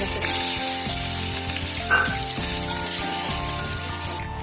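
Onions frying in oil in a wok with whole cardamom, cinnamon, cloves and bay leaves make a loud, continuous sizzle with a few stirring scrapes, over a steady low tonal hum.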